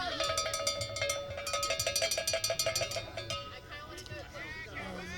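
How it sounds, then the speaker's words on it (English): Cowbell struck rapidly and repeatedly at an ultimate frisbee match, a sharp metallic clanking rhythm that carries for about three seconds, with crowd noise and voices around it. "There's the cowbell."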